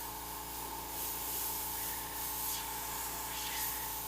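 An airbrush at high pressure sprays paint onto a t-shirt, making a steady, fairly quiet hiss that runs unbroken from start to finish.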